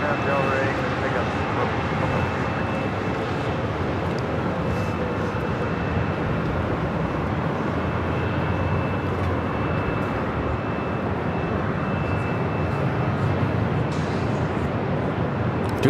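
A jet airliner takes off from runway 24 Left at Los Angeles International Airport, producing a loud, continuous broadband engine roar with a steady high whine that holds throughout, with a voice talking over it.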